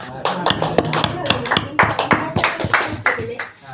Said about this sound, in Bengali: এর জন্য একটা হাততালি হবে না?